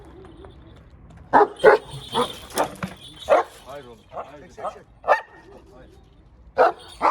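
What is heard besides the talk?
dog barking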